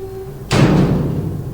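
A single loud, sudden door bang in the horror game SSTWL cuts through a quiet hum, followed by a lingering low rumble as it fades.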